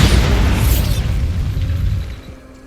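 A Bombarda blasting spell explodes in Hogwarts Legacy, a single loud, close boom with a bright crackling burst that rumbles and slowly fades away over a couple of seconds.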